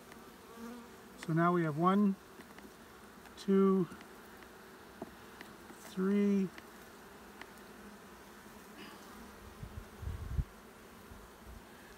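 Honeybees buzzing around an open hive with brood frames during a colony check: a steady low hum with several louder passes of single bees flying close by, while a person speaks briefly.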